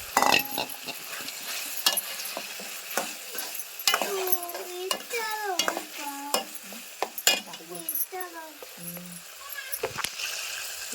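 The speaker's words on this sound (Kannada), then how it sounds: "ಈಗ ಬಟಾಣಿ ಕಾಳು ಹಾಕ್ಲತ್ತೀನಿ" Green peas tipped into a sizzling pan and stirred for a children's lunch-box dish, with repeated close scraping and clacking strokes over a low sizzle, and a voice talking through the stirring.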